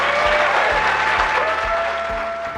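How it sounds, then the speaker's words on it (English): An audience at a Silicon Valley culture event claps in sustained, even applause that stays loud throughout, with a faint tone running underneath. "So can we get a serious round of applause for our culture shifters"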